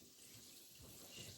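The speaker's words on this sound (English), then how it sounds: "Just fill it with water." Tap water running steadily into a pot in a home kitchen, a soft continuous splashing stream, faint and without talk.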